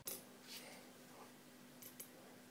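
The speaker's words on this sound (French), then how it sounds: "Je coupe le fil." Scissors snipping knitting yarn at the end of a baby blanket, a few faint, quick close-up clicks in an otherwise quiet room.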